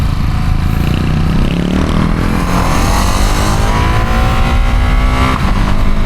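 A 2025 Ducati Panigale V2 motorcycle accelerates hard, its engine roaring loud and close without letup and climbing in pitch through the gears as the quick shifter blips, with no talk.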